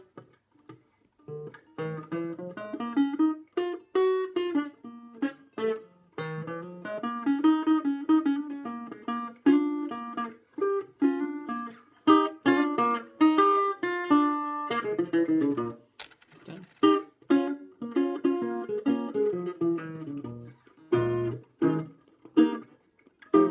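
Plucked electric guitar notes play through an amplified pickup, a thin, clean melody of short picked phrases with small gaps between them.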